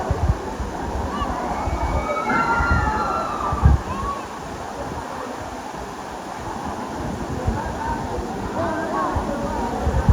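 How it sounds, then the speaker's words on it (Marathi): Navankund waterfall pours with a steady, broadband rush of water close by, with splashing and sloshing throughout as people move around in the water and talk beneath it. "आपण पुन्हा एकदा नावनकुंड धबधबा या ठिकाणी आलोत"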